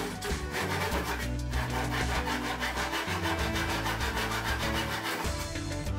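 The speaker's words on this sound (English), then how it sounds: "made the straight cuts using a miter box" Pallet wood runners hand sawn in a miter box, a steady back-and-forth rasp of saw strokes that continues loudly throughout, close up with no voices.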